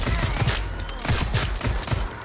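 Rapid bursts of gunfire from Call of Duty Zombies, a dense string of loud shots repeating in quick rhythm close up with no break.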